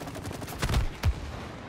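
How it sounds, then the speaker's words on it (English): Explosions in the It Takes Two video game, two short booming bursts close together, loud and punchy against a steady background hum. "I like how the explosions sound."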